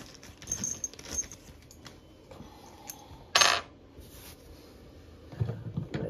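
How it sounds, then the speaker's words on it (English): New metal screws handled during plumbing work on an overflow trip lever give scattered faint clinks and jingles, with one sharper metallic rattle in the middle and quiet room noise between. "I'm gonna take my new screws."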